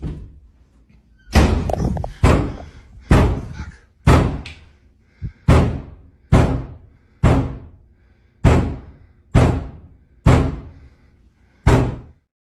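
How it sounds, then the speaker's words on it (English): Doors bang loudly in rooms upstairs in a creepy camping story, about a dozen heavy slams at roughly one-second intervals, each with a short booming decay. "doors start banging loudly in the rooms"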